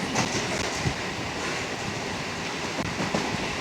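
Sealdah–Dankuni local train running along the tracks at speed, a continuous close roar of wheels and rail with faint clickety-clack beats, no voices.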